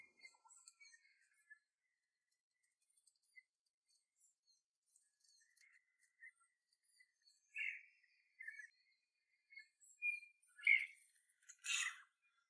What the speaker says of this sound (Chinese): 大家听一听鸟叫的声音